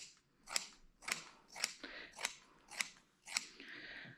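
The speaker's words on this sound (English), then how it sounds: "So again, you just cut this in half for your large bandanas." Scissors snip through soft flannel fabric while cutting it in half for no-sew dog bandanas: six crisp, evenly spaced cuts about half a second apart, close and fairly quiet, with no talking.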